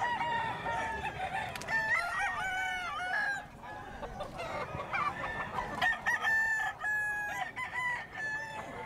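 Several roosters crow and cluck at a chicken sale in Bocaue, Bulacan, overlapping calls ringing out close by, with repeated crows rising over steady clucking.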